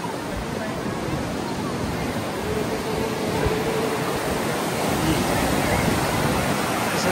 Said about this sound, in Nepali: माथि चट्टानको बिचबाट झर्दैछ यो फल्स